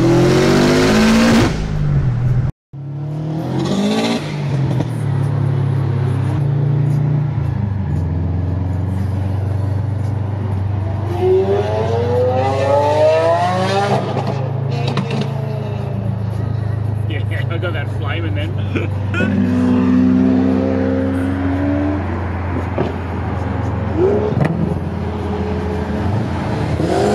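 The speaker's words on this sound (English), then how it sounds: "the turbo just spools up crazy when he hits it" A Subaru WRX accelerates hard at a car cruise, its engine roaring steadily as the turbo spools up, loud and continuous with rising whines, while people talk over it.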